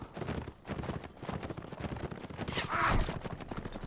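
Horses galloping in the medieval combat game Mount & Blade: Warband, a dense, continuous rumble of hooves mixed with battle noise, loud and close throughout.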